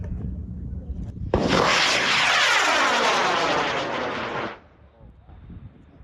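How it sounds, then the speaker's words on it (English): A student-built rocket lifts off at a NASA student launch competition in Huntsville, Alabama, its motor erupting into a loud, sustained broadband roar for about three seconds before cutting off abruptly, leaving faint background noise. "A group of UTSA engineering students launched a rocket they built as part of a national competition."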